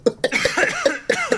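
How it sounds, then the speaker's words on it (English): A man coughs repeatedly in a comedy sketch, a close, loud run of about eight sharp hacking bursts in quick succession with no talking. "Did that guy cough again?"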